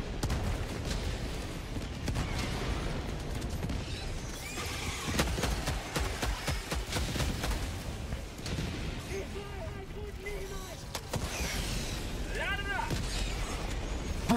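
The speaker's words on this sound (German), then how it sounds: "ich werfe einfach random überall Granaten" Grenades go off one after another in the video game Helldivers 2. The blasts are amid dense, continuous gunfire and chaotic battle noise that stays loud for the whole stretch, with a voice breaking through at times.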